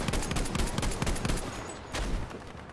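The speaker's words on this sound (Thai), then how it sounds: "เขายิงกันชงเชงชงเชง" Dense, rapid gunfire from a Battlefield V battle, many overlapping shots crackling at once, loud and continuous, with a brief lull before another surge of firing.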